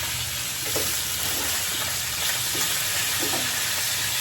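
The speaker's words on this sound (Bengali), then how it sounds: "মাছের তেলের পরে, ভাজার তেলের পরে আমি ভেজে নিলাম বড়িগুলা" Lentil dumplings (bori) fry in leftover fish-frying oil with a steady, close hissing sizzle, broken by a few soft clinks of stirring, with no voices.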